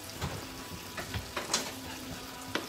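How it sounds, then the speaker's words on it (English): Quiet kitchen noise with a soft sizzling wash from a frying pan of chilli cheese sausages, broken by a few light clinks and taps of utensils. "That's now cooking with what we've got in that frying pan"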